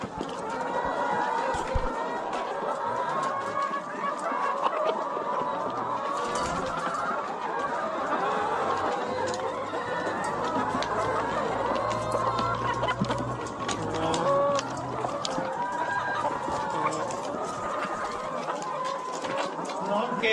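Farm chickens, fed on black soldier fly larvae, cluck continuously around the listener, with occasional crowing from a rooster, loud and close beneath a voice talking throughout.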